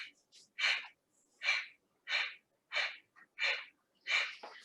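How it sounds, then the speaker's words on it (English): Kapalabhati breath of fire: six or seven sharp, forceful nasal exhales in a steady rhythm, each a short breathy puff with small gaps between, close and clear in a quiet room. "We're going to begin with some Kapalabhati breath or breath of fire."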